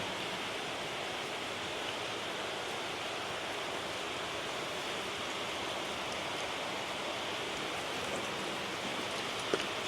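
Steady rain falls during the rainy season in northern Thailand, a dense even hiss of drops on surfaces that continues unbroken at an unchanging level, with no voices.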